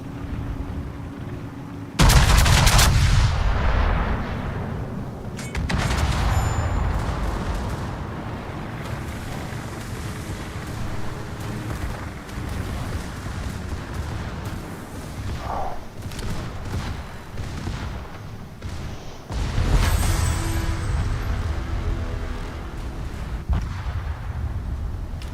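Heavy warship guns boom in World of Warships, a loud blast opening the sequence and further deep booms and rumbling salvos recurring over a sustained low roar of battle.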